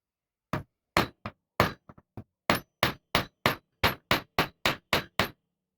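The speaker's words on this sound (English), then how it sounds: "I will have to flatten the ends by striking them with the hammer a lot" Repeated sharp metallic hammer strikes flattening the ends of a bone ring out close up, around fifteen blows in an uneven rhythm that settles into a steady beat, with silence between hits.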